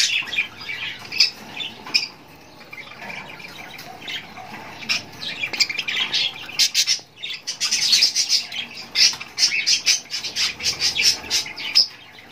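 Pet birds, including a spangle gray hen, squawk and chirp at close range in irregular bursts that grow busier toward the end.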